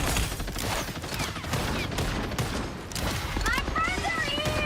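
Heavy artillery gunfire in the video game Marvel Rivals, a dense, continuous rattle of rapid shots and impacts with whistling projectile sounds layered on top, under a player's talk.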